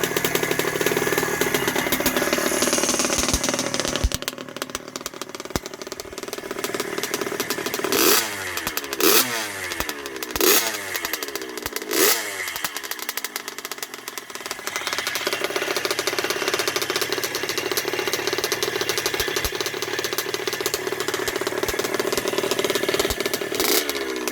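A 1980 Yamaha YZ80G motorcycle engine idles loudly while being run in after a rebuild, with a few short throttle blips that rise and fall in the middle before it settles back to a steady rattling idle.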